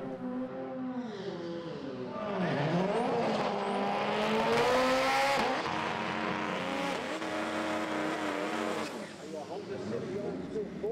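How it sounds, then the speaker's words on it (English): Front-wheel drive drag race cars, including a Ford, launch at Santa Pod raceway, engines roaring and revving up loudly for several seconds before fading, with a commentator talking over the noise. "Ray Saunders with the Speed Factory Racing decals down the side of the car, taking on Phil Reeves in the Horsham Developments-backed Ford"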